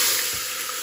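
Whole spices fry in hot oil for an Erachi Choru base, giving a brief, steady sizzling hiss with a faint low knock partway through.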